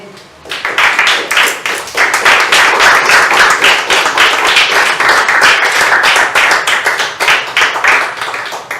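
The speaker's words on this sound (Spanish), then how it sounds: "Que le da un aplauso al Señor." A church congregation bursts into loud, dense applause right after a sermon line, swelling quickly and holding strong with crisp overlapping claps before easing slightly near the end.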